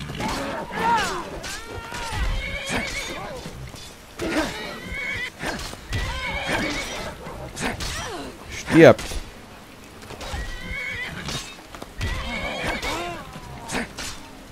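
A horse whinnies in the video game Skyrim amid clatter and hoof sounds, with someone talking over much of it and a sharp hit near the middle.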